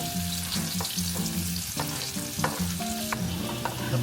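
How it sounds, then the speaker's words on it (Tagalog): Garlic sizzles and fries in a pan holding leftover chicharon bits while being stirred, a close, continuous crackle with repeated scraping strokes of the utensil, no voices. "Igisa na natin. Umpisa natin sa bawang."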